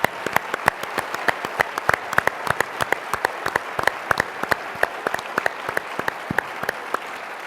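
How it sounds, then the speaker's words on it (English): A political conference audience at CPAC 2016 claps steadily, many hands at once, a dense sustained round of applause with scattered louder claps standing out. "Can you give them a round of applause"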